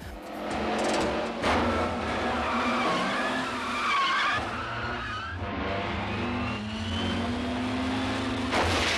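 Tyres skid and squeal in a car chase through the Trocadéro in Paris in the film Le Professionnel, with long screeching slides over revving engines, loud and continuous throughout.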